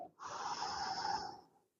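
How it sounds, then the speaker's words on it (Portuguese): One slow, deep breath is drawn in through the nose and let out through the mouth during a relaxing spine exercise, a steady, breathy airflow lasting over a second, close and soft. "Puxa o ar pelo nariz, solta pela boca devagar."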